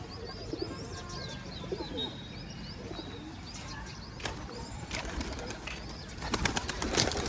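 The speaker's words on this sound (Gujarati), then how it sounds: "આટલા બધા કબૂતર આપણે બારે કાઢી મૂક્યા છીએ" Soft, repeated cooing of pigeons close by, mixed with a few chirps, brief wing flutters and low background rumble.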